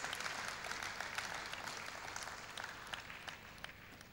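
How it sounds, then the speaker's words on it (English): Faint, distant applause from an audience at a university convocation lecture, a steady wash of clapping with no voices on top. "Another round of applause for him"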